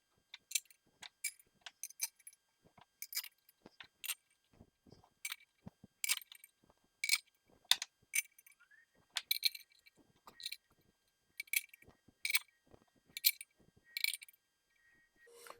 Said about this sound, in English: start putting all the bolts into this cover and get it torqued down